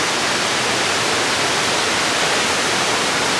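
A waterfall roars as a dense, steady broadband rush of falling water, loud and unbroken throughout with no voices over it.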